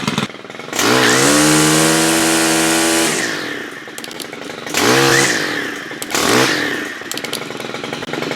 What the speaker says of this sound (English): Now this does not sound like a 2-stroke because it's not. It's a 4-stroke motor